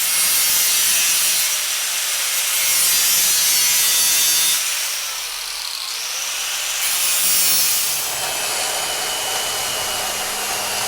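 An angle grinder grinding out metal on a Vise Grip square shank bar clamp, a loud sustained high whine and rasp with two short easing dips where the pressure lets up, then steady again.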